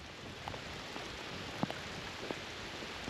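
Steady rain falls outdoors in hot Southeast summer weather, a dense continuous hiss with a few sharper drop taps near the microphone, no voices.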